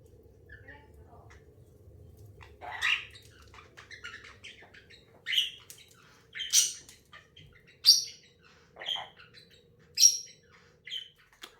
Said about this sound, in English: it's not the GameZone Birdroom without all the birds